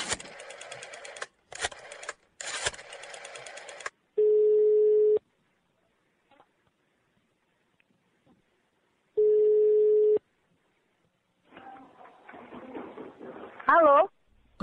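A phone call is placed on a Brazilian radio comedy show: a few seconds of talk, then two long steady ringback tones with a silent gap between them, and finally a voice answering over the line.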